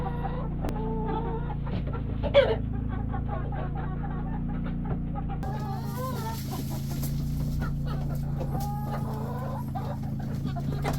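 Chickens cluck and chatter nearby over a steady low hum, with occasional louder squawks from a rooster among them, on a farm on the Southern Kenai Peninsula in fall.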